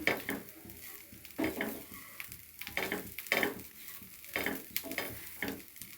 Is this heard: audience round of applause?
no